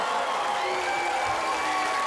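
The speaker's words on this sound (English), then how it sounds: "can I have a reserved round of applause for our sinister British friend, Piers Morgan?" A studio audience at a talent show applauds a judge, with a loud, dense, continuous wash of clapping and crowd noise that sounds close and uninterrupted.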